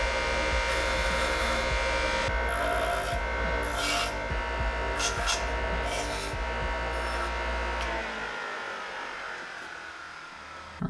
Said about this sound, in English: we can slowly grind it down until it fits just perfectly